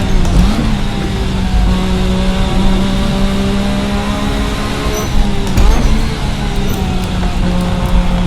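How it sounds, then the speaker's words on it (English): A 1986 Formula RSS race car with a turbocharged V6 in the Assetto Corsa racing game drones steadily at moderate revs, its loud, even engine note holding throughout with slight pitch shifts and no talk. "That engine, though, already sounding fantastic, and we're barely pushing it."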